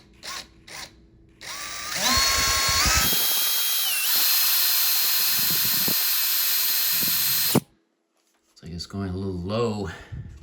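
A cordless power drill drives self-tapping screws into the frame of a MAAX Cyrene glass corner shower door, starting with short taps, then a long rising whine of about six seconds that cuts off abruptly, followed by low speech.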